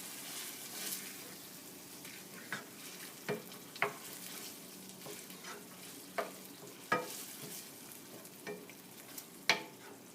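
Meat sauce for lasagna being stirred in a pan, with a low sizzle underneath and scattered scraping clinks of the spoon against the pan at irregular intervals, close and fairly quiet, no voices.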